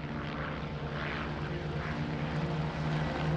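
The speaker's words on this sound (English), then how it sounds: "Pete will be leading the sortie in a single-seater Mark V Spitfire." A pair of Spitfires, one a single-seat Mark V, flying close together in formation, giving a continuous loud droning piston-engine and propeller roar that swells slightly throughout.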